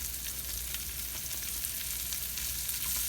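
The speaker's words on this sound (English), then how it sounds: "the reason you want to fry it first is because your herring infuses the butter and oil that you add" Herring fries in butter and oil in a pan, giving a steady, dense, even sizzle that holds without pause throughout, close and alone with no voices.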